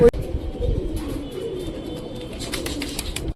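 Giribaz pigeons, kept alongside Madrasi and Pakistani breeds at a pigeon farm, coo steadily in a low rolling murmur, with a brief faint voice at the very start.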